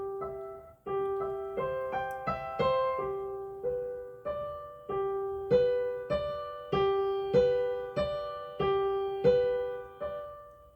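Solo piano playing a line, a steady procession of single notes and gentle chords, each struck and left to decay, moderately soft and close with no talking.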